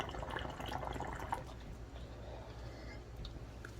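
Soft, continuous bubbling and gurgling of water in a hookah base, quiet and close, with a few light ticks and no talking.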